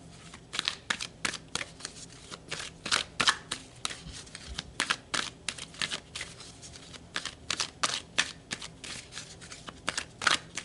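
A deck of tarot cards is shuffled repeatedly, producing rapid crisp riffling bursts and flicks in an uneven rhythm, close and clear with no talking.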